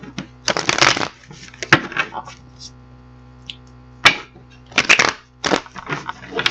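A deck of tarot cards is shuffled in repeated quick riffling bursts, close and crisp, separated by short pauses, with a few sharp taps between them.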